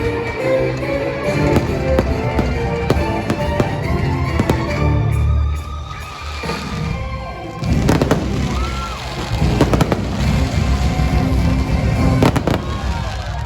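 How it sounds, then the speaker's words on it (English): A final cannon blast sounds before the show aboard the Disney Wish cruise ship, a series of loud sharp bangs and crackling bursts echoing outdoors amid a noisy, murmuring crowd. "Here's a final cannon blast before the big"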